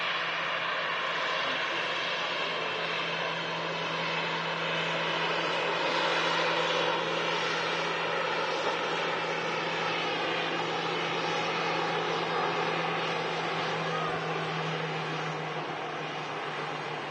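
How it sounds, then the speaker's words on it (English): A Ryanair airliner taxis past the runway viewing park at Manchester Airport, a steady, loud jet engine roar with a constant low whine that holds for the whole stretch, with no speech. "Ryanair taxi in front of us at the Runway Visitor Park, heading out to Budapest"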